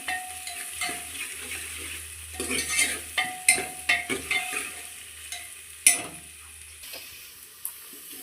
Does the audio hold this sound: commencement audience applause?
no